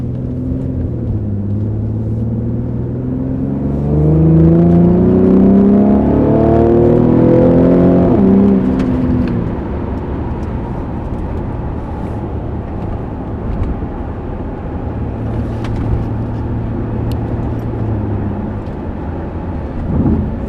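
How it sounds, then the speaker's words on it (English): A 2013 Infiniti G37x AWD engine revs up hard, a loud, rising growl that peaks, then drops back to a steady, lower engine hum for the rest of the stretch. "It only really gets loud when you step on it or if you kind of rev it up."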